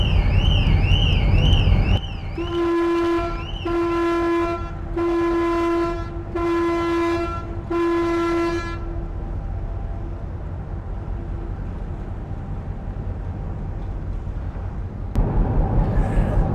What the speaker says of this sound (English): You probably heard the whistle going on the, or the horn going on the ferry.